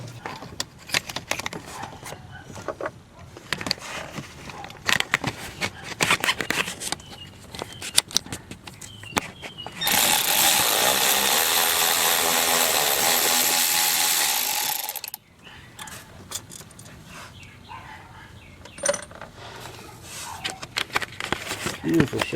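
A Milwaukee power tool spins out bolts on a 6.0 Powerstroke, a loud steady whir lasting about five seconds amid close ratchet clicks and clinking parts, with people talking around it.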